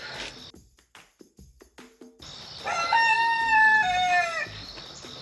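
A loud rooster crow rings out after a few scattered clicks and knocks from hole digging, its long wavering call stretching over about two seconds nearby.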